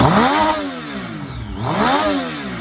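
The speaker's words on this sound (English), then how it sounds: "The engine's really warm, so I'm going to rev it" A warm Triumph Street Triple 675 R motorcycle engine is revved twice up from idle, each rise a loud, close, smooth sweep that falls back before the next blip, with no talking.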